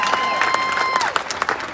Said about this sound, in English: Big round of applause for Declan.